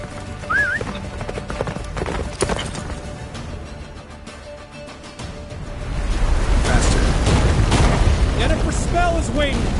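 Geralt's horse Roach gallops in The Witcher 3 video game, rapid clip-clop hoofbeats driving on throughout, with a neigh near the start, voices over the top and a rising rumble of blizzard and explosions in the second half.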